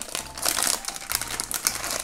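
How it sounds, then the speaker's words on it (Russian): A plastic packet of Disney princess surprise toys is torn and crinkled open up close, giving bursts of bright rustling and crackling with a few short pauses. "Следующий откроем пакетик Disney принцессы."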